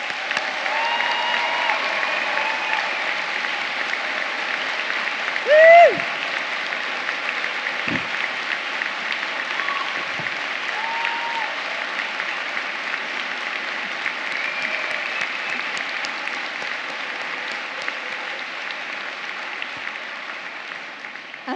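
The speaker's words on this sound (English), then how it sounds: "So can we have a big round of applause for all the people here?" An audience in the Barbican Centre hall in London applauds continuously at an Open University degree ceremony, a long even roar of clapping with one brief cheer partway through.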